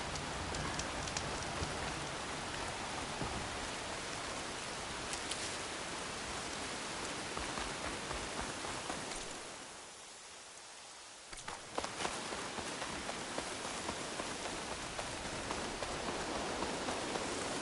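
Continuous rainfall in Horizon Forbidden West hisses evenly across the scene, close and enveloping, with a brief dip in the middle before the downpour returns at full strength; faint footsteps may mix in, and nobody speaks.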